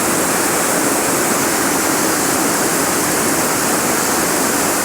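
Thirlmere waterfall in the Lake District pours in a steady, dense roar of rushing water, close and loud, unbroken from start to finish with no voices.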